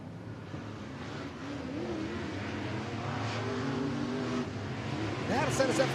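An IMCA modified race car at Bakersfield Speedway rumbles steadily as it pulls down to the infield, the engine droning under continuous announcer talk, rising slightly toward the end.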